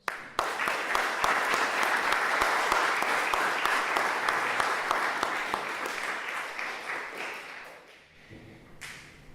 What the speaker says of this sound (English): I would like to ask you to give yourselves a round of applause